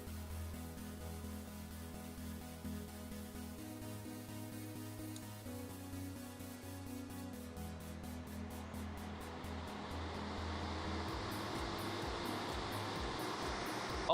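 Water-pulling machine with a gray pump switched on, a steady mechanical hum building into a rushing, wave-like wash of water noise that grows louder toward the end, with music underneath and no speech.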